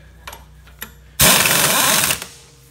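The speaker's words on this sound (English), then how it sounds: "We're gonna take our impact again, tighten them down." A burst of pneumatic impact wrench hammering as truck lug nuts are tightened on a drum air brake wheel, one loud buzzing run of about a second after two brief taps, close and alone.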